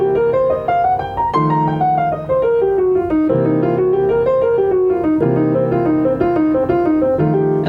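Piano runs up and down a blues scale over repeated chords in the left hand, a steady, clear stream of notes rising and falling for several seconds.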